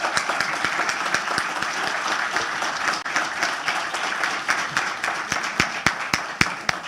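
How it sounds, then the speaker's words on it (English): Audience at the 20th Annual Caribbean Child Research Conference gives Mr. Clark a steady round of applause, dense clapping from many hands with a few sharper, louder claps standing out near the end. "Let us give Mr. Clark another round of applause."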